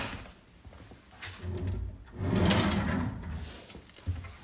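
A wooden drawer in a rental property kitchen slides open and shut with rumbling runner noise and a soft thud, close by, with no talking.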